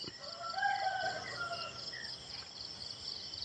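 A rooster crows once at dawn in rural Lampang, Thailand, fairly distant, its call rising and falling over a steady chorus of insects chirping in the quiet morning air.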